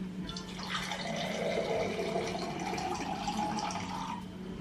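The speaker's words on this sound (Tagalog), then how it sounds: "lagyan ko siya ng konting tubig" A small amount of water poured into a Nutribullet blender with celery for juice, a close, continuous trickling fill that gurgles and rises in pitch over several seconds, with no speech.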